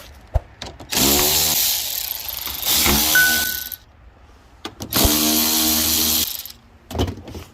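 A power tool on a Nissan Maxima/Altima 3.5 V6, spinning out 10 mm bolts holding a plastic engine cover, in several separate bursts of whirring with short gaps, close and fairly loud.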